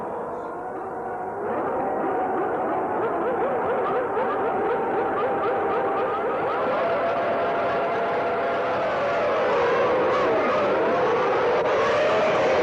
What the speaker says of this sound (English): into the pits has come David Coulthard as the last two cars, the 40s, come up to take their position on the 23 car grid.